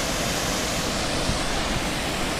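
Waterfalls on the Isle of Skye pour in a steady, dense rushing roar that stays even and unbroken throughout, with no voices over it.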